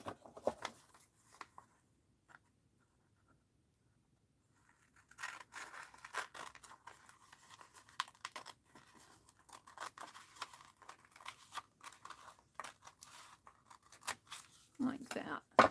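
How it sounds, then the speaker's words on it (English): Paper being cut with scissors at a crafting table for a mixed-media art journal, a steady run of close, crisp snips and rustling scrapes after a quiet stretch, with a voice talking at the start. "And let's cut this other side."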